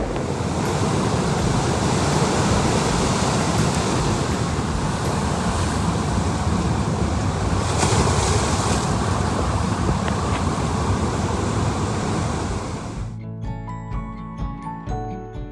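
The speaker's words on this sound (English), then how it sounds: "Absolutely epic waves." Heavy Cornish ocean surf roars continuously with strong wind buffeting the microphone, a loud broadband wash of breaking waves that cuts off abruptly near the end.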